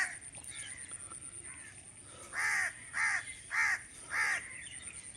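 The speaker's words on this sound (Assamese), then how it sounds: "কাউৰীৰে ডিষ্টাৰ্ব দি থাকে, কাউৰীৰ ডিষ্টাৰ্বৰ বাবে একো দেখুৱাব নোৱাৰোঁ।" Crows caw near a rice paddy field in a village, first a few distant calls, then four loud, evenly spaced harsh caws close by over a quiet rural background.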